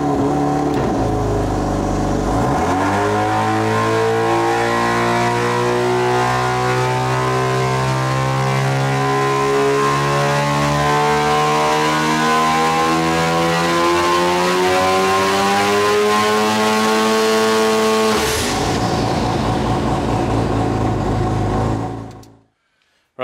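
A turbocharged car pulls at full throttle with no nitrous: after a brief dip the engine climbs in a long, rising drone through the revs, loud and close, then a shift note and a fade to silence.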